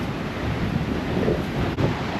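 Ocean waves wash onto the shore at a seaside spot in Bali, a constant surf rumble mixed with wind buffeting the microphone, steady and fairly loud throughout.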